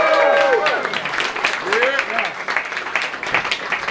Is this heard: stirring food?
no